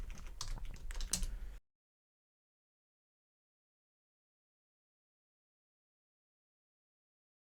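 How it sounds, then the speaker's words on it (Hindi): A command is typed on a computer keyboard as a quick run of close key clicks lasting about a second and a half, then silence. "यहाँ से लिखता हूँ मैं GP update space slash force."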